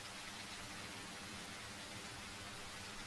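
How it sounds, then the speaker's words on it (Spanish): Rain falls steadily in The Isle survival game, a faint, even wash of hiss with no breaks or distinct drops. "de que esté lloviendo en este momento"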